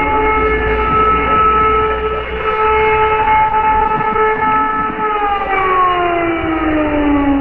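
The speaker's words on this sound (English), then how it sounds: "Wail of another air raid siren just before curfew." An air raid siren wails steadily in Odessa, Ukraine, its rising and falling tones sustained and loud, with a slow downward bend near the end, just before curfew.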